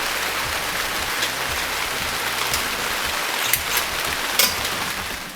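Steady rain pattering on a tarp over a tiny house under construction, a dense, even hiss of drops throughout with a few brief louder splashes, no voices.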